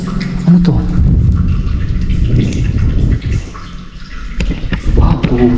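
Water drips and trickles inside a dim tunnel in Negros, the small splashes echoing steadily under a continuous rumbling ambience with occasional soft voice sounds.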